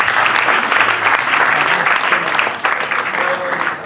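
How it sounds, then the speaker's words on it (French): Loud, sustained applause with cheering from an audience at an evening wedding party in a French-speaking venue, as the bridal party leaves the dance floor, dense clapping filling the room with a brief dip midway. "Merci beaucoup, on acclame très fort."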